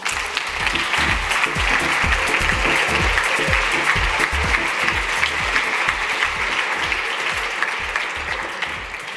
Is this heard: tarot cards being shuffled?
no